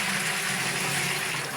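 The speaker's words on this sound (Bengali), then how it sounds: "মাছগুলো কিন্তু এখন ধুয়ে নেব।" Running tap water splashes steadily while fish are rinsed, a continuous close hiss and gurgle with no talk.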